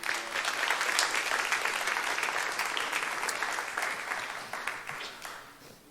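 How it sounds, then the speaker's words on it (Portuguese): A church congregation applauds loudly, a dense wash of many hands clapping that holds steady and then fades toward the end into a few separate claps. "Se é para Jesus, aplauda mais forte."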